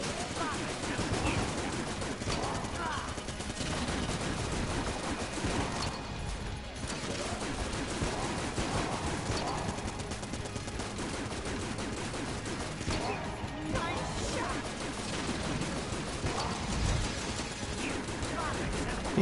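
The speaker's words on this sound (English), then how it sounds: "And once again, I'll bring in Gatling Gun." A Gatling Gun in Enter the Gungeon fires continuously in a dense, rapid stream of shots, mixed with game effects and crashes, loud and sustained throughout with only brief dips.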